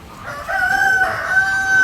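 A rooster crows once, one long drawn-out call that rises and holds before trailing off, loud and close, seen among assorted chickens and pigeons at a small animal yard.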